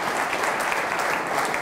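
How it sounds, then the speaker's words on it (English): Steady, sustained applause from an audience at a Spartanburg Christian Chamber gathering, a dense even wash of clapping that holds at constant loudness throughout with no voices over it. "So let's give her a great big old applause."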